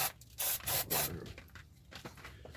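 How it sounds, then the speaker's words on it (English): Brake cleaner sprays onto the oil pan of a 2005 Subaru Outback in short hissing bursts, three strong blasts early followed by quieter rubbing and scraping. "a little rinse with some brake clean"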